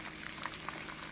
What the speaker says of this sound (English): it does take like 3 to 5 minutes to get these fried up